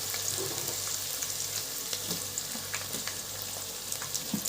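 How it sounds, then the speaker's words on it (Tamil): Onions spread into very hot oil, a steady moderate sizzling hiss with faint stirring clicks, no voices. "எண்ணெய் பார்த்திங்கன்னா இப்போ நல்லா சூடாகிடுச்சு. இப்போ எதுவுமே யோசிக்காமல் நம்ம என்ன பண்ணோம், நம்ம வெட்டி வச்சுருந்த வெங்காயம் அப்படியே சூப்பராக விரிச்சு போட்டு விடலாம்."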